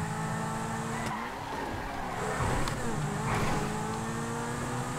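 A car in the video game GTA V is driven hard: the engine revs and shifts pitch, tires squeal and skid briefly, and the loud motor drone runs throughout without talk.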